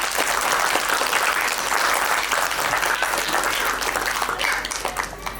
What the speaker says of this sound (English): let's have a round of applause for yourself